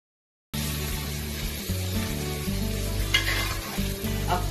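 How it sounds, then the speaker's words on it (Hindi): Onions frying in hot ghee in a pot, a steady close sizzle starting abruptly after a brief silence, with soft stirring scrapes on top. "प्याज को फ्राई करते हैं"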